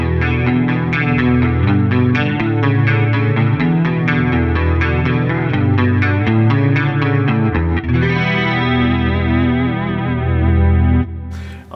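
Electric guitar run through a Line 6 Helix effects processor, playing a loud, continuous distorted passage with chorus-like shimmer, steady strummed chords and a brief cut near the end.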